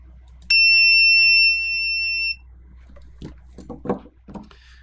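A multimeter set to continuity mode, used while fitting a CleanPower regulator in a Game Boy Pocket Color, gives one steady high beep of about two seconds, followed by faint clicks and handling noises.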